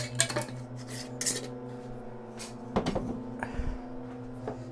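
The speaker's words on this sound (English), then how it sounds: "I open up the farro and I get this, just a tablespoon, a regular silverware tablespoon" A regular silverware tablespoon scoops dry farro grains from a package, with scattered metallic clinks, light scrapes and grainy rustles at close range over a steady background hum.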